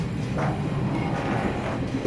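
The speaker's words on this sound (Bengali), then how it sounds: "এই দেখুন আর ট্রেন ছেড়েছে" An old European-built train pulls away from a station in Morocco, a short stretch of close, steady rolling rumble with light rattling.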